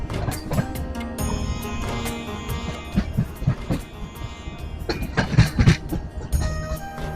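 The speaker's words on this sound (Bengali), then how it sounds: "সেই ভ্যালির মাঝখান দিয়েই ছুটে চলেছে আমাদের ট্রেন" Passenger train running through a valley on the Kolkata to Jagdalpur route in Chhattisgarh, a steady rolling rumble with rattling and clatter that swells and fades over the whole stretch, with what sounds like music layered over it.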